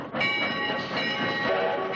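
A train rumbles steadily along railroad tracks in the Strategic Command WWII strategy game, a dense, continuous rolling clatter that stays loud and unbroken with no voices over it.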